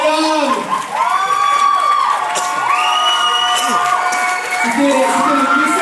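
A crowd at an Indian dance show cheers, whoops and shouts loudly with scattered applause, a continuous close roar of voices throughout, with speech mixed in.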